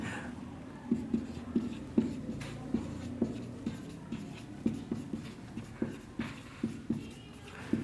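A pen writes a 14 times table on paper, making a run of short scratchy strokes with small taps between them, close and fairly quiet, continuing steadily without talk.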